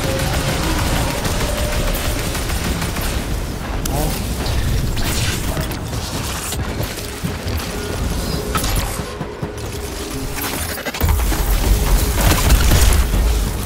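Grenade launcher blasts and heavy gunfire in the Destiny raid Vault of Glass, dense rapid booms and explosions throughout, loudest near the end, with mechanical game effects and some talk mixed in.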